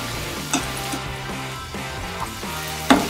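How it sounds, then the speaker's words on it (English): Mango sauce simmering in a pan gives a soft, steady sizzle and gentle bubbling, with a few brief clinks of a utensil against the pan. "So let it simmer"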